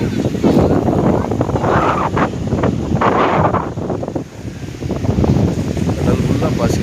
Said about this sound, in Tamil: இந்த காற்று சோளா காற்றுங்குவோம்